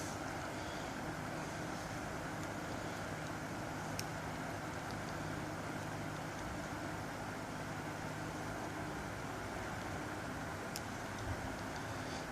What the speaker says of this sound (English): if you hear the fan running in the background